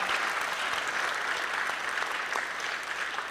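An audience claps in sustained applause for a conference presenter, dense and steady throughout without a break, with no voices standing out above the clapping.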